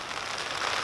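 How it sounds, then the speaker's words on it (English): Steady rain falls outside a polytunnel on an allotment, making a soft, even patter and hiss with no talking. "So unfortunately the rain hasn't stopped."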